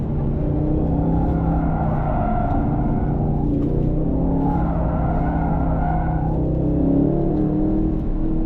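A 2025 Aston Martin Vantage on a race track at light throttle, its engine droning loud and steady throughout with a low rumble and faint tyre noise, no voices.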